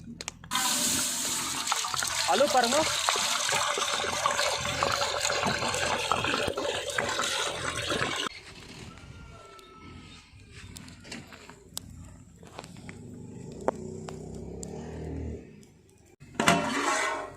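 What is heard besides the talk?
water being poured over rice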